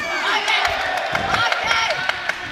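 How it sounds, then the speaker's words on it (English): A boxing crowd at a World Boxing Cup Finals semifinal bout cheers and shouts, loud and close, with whoops and claps over the steady roar and a commentator talking over it. "Really enthusiastic support right behind us here, which is great to hear. Cheering every single success for their boxer."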